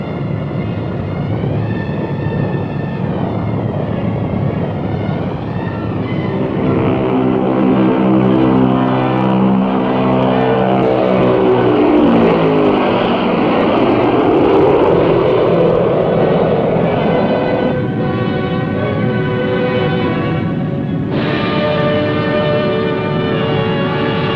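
Engines of a B-36 bomber in flight give a loud, continuous multi-engine propeller drone with rising and falling tones as the aircraft passes, heard alone throughout.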